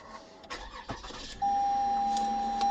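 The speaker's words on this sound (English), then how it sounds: "Car starts." A 2013 Lexus ES350 starts with the push start button: a brief cranking catch, then the engine settles into a steady idle with a high, constant tone, close and fairly loud.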